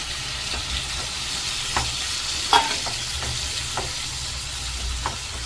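Tomatoes fry with onions in a pan for an egg and prawn curry, an even sizzling hiss with occasional spoon scrapes and taps from stirring.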